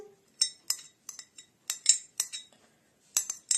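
Grated hard cheese is mixed with chopped tomato using a utensil, making a close, light series of clinks and taps against the bowl, separated by short silences.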